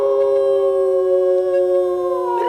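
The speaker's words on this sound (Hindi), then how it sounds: "गली का कुत्ता डॉल्बी साउंड में रो रहा है।" A street dog howls in one long, loud, sustained wail with steady harmonics, rising and breaking near the end, close and alone with no other sounds.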